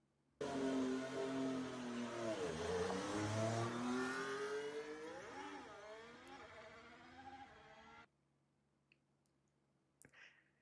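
A Scuderia Ferrari Formula 1 car at its launch event revs with a small, buzzy, go-kart-like sound, then drops away, its pitch dipping and rising several times before cutting out abruptly, followed by a couple of clicks.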